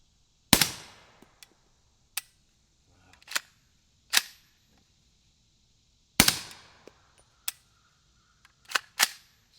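Suppressed rifle fired with 220 grain Callaway Ballistic subsonic rounds through a Liberty Mystic X suppressor: several sharp, dry cracks spaced a second or two apart, each with a short metallic tail, and quieter clicks in between.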